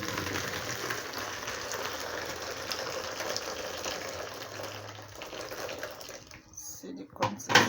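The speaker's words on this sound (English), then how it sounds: "So let's turn the hot water here." Hot water pours steadily into a bowl for preparing gari made of cassava in a rural Nigerian village kitchen, a continuous close splashing stream that tapers off near the end, with people talking nearby.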